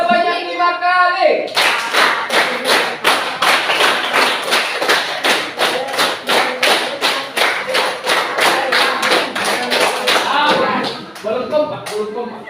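A group claps in unison after a brief voice, delivering a long run of sharp, evenly spaced claps in repeated sets of five that continue for about ten seconds, loud and close.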